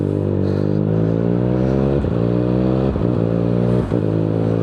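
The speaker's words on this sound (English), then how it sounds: "How smooth those gear changes are." Motorcycle engine running loud and steady in harmonic drone, dipping briefly at three gear changes roughly a second apart before pulling on again, with no talk.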